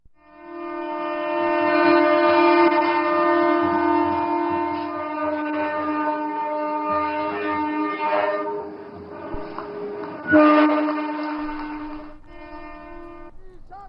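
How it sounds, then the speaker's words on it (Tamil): An Amrit Bharat train horn sounds long and loud at a flag-off in West Bengal, with strong harmonic tones swelling and fading over rumbling rail noise and a second blast near the end. "குறிப்பாக கொல்கத்தாவை பிற மாநிலங்களுடன் இணைக்கும் 3 அம்ரித் பாரத் ரயில்களை பிரதமர் மோடி கொடியசைத்து தொடங்கி வைத்தார்."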